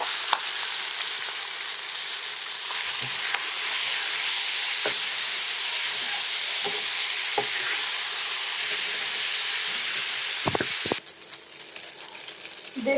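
Stick noodles and egg fry in a hot pan, producing a loud, steady hiss of sizzling punctuated by occasional spatula scrapes, before the sizzle drops noticeably quieter for the last couple of seconds.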